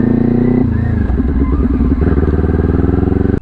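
A motorcycle engine runs loud and close, its pitch drops with a clunk as it shifts from first into second gear, and it then pulls on under throttle with a throaty, pulsing exhaust.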